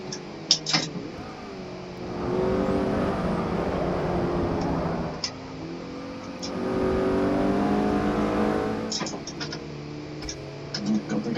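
Ford RS 500 race car engine in Forza Motorsport 6, droning steadily through two long revving stretches separated by a brief lift, with short clicks and blips between, no talking.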